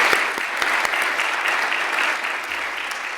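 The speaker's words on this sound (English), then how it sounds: "I would like a round of applause for her efforts." Steady applause from an audience at a town address, dense clapping sustained throughout at an even level with no voices over it.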